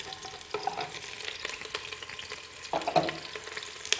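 Pieces of jackfruit sizzling in hot mustard oil in a pan, a steady soft frying hiss with a couple of brief stirring bursts, fairly quiet and heard alone.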